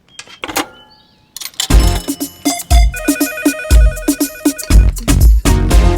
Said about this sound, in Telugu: ఇదేనా సెల్ ఫోనరా మిస్డ్ కాల్ ఇవ్వడానికి?